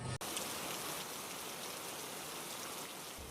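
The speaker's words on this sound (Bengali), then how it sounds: "বৃষ্টি থামার কোনো নামই নেই" Heavy rain pours down during a kalboishakhi nor'wester storm, a dense, unbroken hiss of drops drumming on surfaces that stays loud and even throughout.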